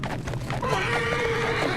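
A horse whinnies in The Legends of Khiimori, a game set on frosty plains, with one long, wavering neigh rising and falling over a steady bed of game ambience.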